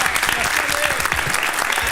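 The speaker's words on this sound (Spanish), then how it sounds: "Fuerte el aplauso para ella" Studio audience on a talk show applauds to welcome a caller, Soledad from Guaymallén, Mendoza, with dense clapping throughout a brief moment and a voice faintly audible beneath it.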